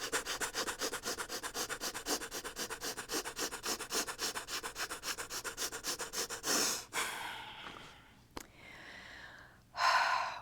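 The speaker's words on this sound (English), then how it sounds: "25 rapid inhales and exhales through the nose." Rapid, rhythmic nasal breathing during a yoga flow, about two forceful inhale-exhale pulses per second for nearly seven seconds, then slower, heavier breaths and a long exhale close to the listener.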